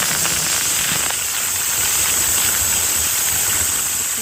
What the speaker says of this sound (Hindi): कुकर में एक सीटी आने के बाद